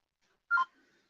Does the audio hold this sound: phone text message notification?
yes